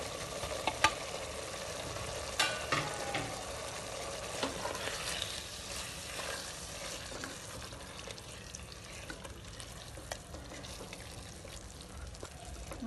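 Tomato being stirred into chicken biryani in a pan, with a steady soft sizzle and intermittent scraping and clinking of a spoon against the pan, no talking.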